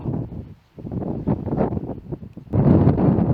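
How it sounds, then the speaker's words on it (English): Strong wind buffets the microphone in heavy, roaring gusts at Baggy Point, Croyde, on the coast, dipping briefly before surging louder again. "It's very, very windy now, but still a lovely day"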